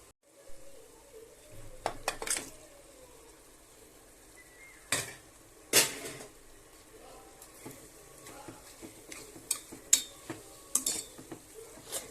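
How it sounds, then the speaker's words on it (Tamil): Mutton sautés with softened tomatoes in a pan for kuruma, giving a faint sizzle broken by sharp clanks and scrapes of a spoon stirring against the pan. "மட்டனை சேர்த்து நல்லா வதக்கிக்கோங்க."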